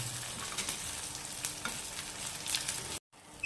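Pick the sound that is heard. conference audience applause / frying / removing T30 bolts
frying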